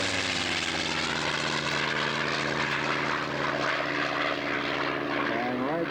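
A scale model Nanchang aircraft flies past with a steady propeller engine drone that holds at a fairly constant, moderately loud level throughout, and its pitch shifts slightly near the end.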